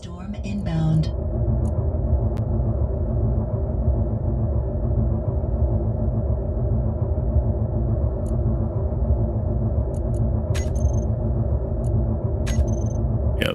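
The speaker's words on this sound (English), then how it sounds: "Meteor storm inbound." In the Space Engineers game, a meteor storm produces a steady, loud, low rumble that drones on without a break and carries a few faint clicks and ticks.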